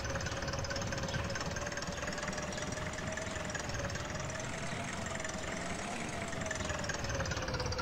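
Tractor engine in the Agrar Simulator 2013 farming game idles steadily and loudly, with a low knocking rumble and a constant pitched drone holding through the whole stretch, with no voices.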